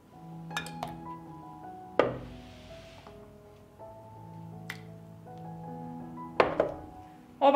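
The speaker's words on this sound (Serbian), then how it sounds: "I izvadit ću tegle iz šerpe." Glass jars of home-pasteurized milk lifted from a cooking pot after an hour of boiling, giving several sharp clinks and knocks of glass against metal and glass, spaced irregularly with quieter rattles between.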